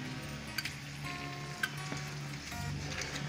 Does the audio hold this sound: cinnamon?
yes